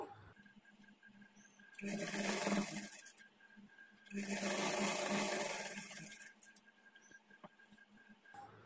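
A sewing machine stitches a plain blouse along a marked line in two steady whirring runs of about two seconds each, close and alone, with quiet handling pauses between and no talk.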